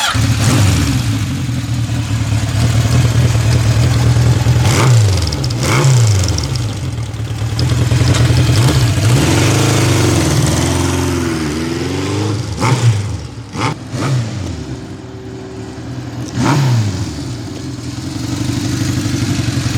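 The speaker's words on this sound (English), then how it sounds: "This is the original pre-production Sandcast exhaust." A 1969 Honda CB750 K0 sand cast engine rumbles loudly up close through its original pre-production exhaust, revving repeatedly in rising and falling bursts with a deep, throaty note.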